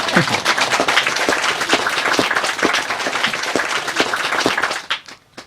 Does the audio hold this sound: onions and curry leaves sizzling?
no